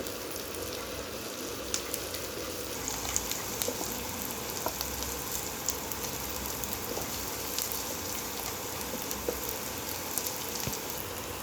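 Onion frying in a pan for a fish recipe, a continuous dense sizzle with scattered small pops and crackles throughout, fairly even in level and without speech.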